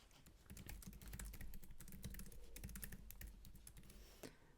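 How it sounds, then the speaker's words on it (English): Fingers tap steadily on a computer keyboard, a dense run of close, quiet clicks with a brief pause near the end. "You can just start typing"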